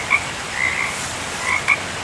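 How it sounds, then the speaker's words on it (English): Frogs croaking outdoors in the early morning before first light, a few short, sharp chirping croaks scattered over a soft, steady background hiss, fairly distant and alone without speech. "I don't know if you can hear those frogs"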